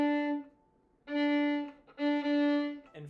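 A violin plays a Wohlfahrt étude, a bowed note on 4th finger D in first position sliding to 2nd finger D in third position, making three sustained tones with brief breaks, clear and solo.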